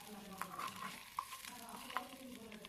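Small puti and tengra fish frying in oil in a clay pot on a small stove, a faint, close crackle with soft clinks and scrapes of stirring scattered throughout.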